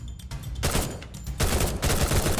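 Rapid bursts of gunfire from the Free Fire battle game, several volleys fired in quick succession with dense, loud automatic shots and a brief pause between strings.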